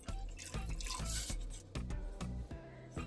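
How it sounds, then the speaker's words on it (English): Water pours into a cooking pot in a kitchen, with steady splashing and dripping and a few louder splashes, close and alone without talk. "So we're going to add some water here."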